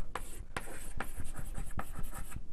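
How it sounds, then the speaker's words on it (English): Chalk or marker writing on a board during a physics lecture on AdS/CFT, a series of distinct scratchy strokes and taps in an uneven rhythm, close and clear with no talking. "let me write that"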